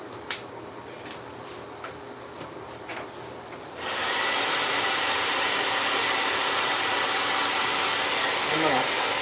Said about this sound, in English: So I'm going to hit this blow dryer,